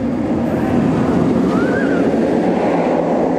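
The Great Bear inverted roller coaster at Hershey Park gives a steady, loud rumbling roar as its train runs, a continuous wash of track and wheel noise with a faint whine rising briefly midway.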